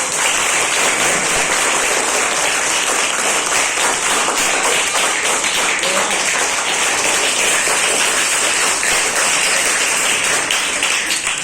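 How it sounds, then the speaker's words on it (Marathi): A large crowd at a village gathering claps loudly and continuously, a dense, even wall of applause sustained throughout. "त्याबद्दल जोरात टाळ्या वाजवा सगळ्यांनी."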